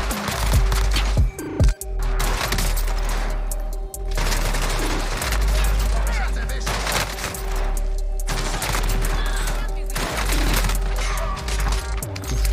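Heavy rumbling explosions and rapid blasts from a precision airstrike in the Warzone video game on Rebirth Island, loud and dense, rolling in repeated waves across the clip.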